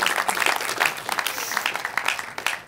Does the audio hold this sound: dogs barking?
no